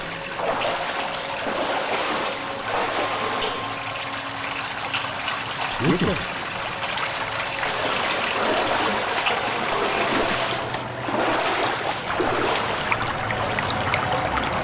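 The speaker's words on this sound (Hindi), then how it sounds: "इस गटर का पानी इस तरफ जा रहा है" Gutter water runs in a steady close rushing trickle, with brief splashes and bumps partway through, while people talk over it.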